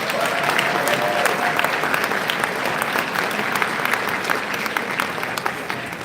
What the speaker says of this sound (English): give the Dobie family a round of applause